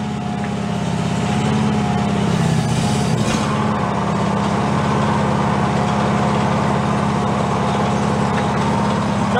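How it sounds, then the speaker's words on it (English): A DR Field and Brush Mower left abandoned for 11 years runs loud and steady with its mower deck engaged, a constant low engine drone and rumble that swells briefly around the third second. "Let's go pop it in gear, turn the mower deck on."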